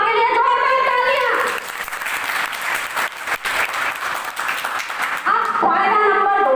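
Loud applause from an audience of health workers, ASHA and Anganwadi staff, at a hospital and foundation event, a dense steady crowd of clapping for several seconds, with someone speaking before and after it.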